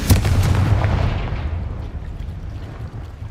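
A Confringo spell blast in the Hogwarts Legacy video game lands as one loud booming explosion, with a sharp crack at the start that rolls into a long rumbling decay.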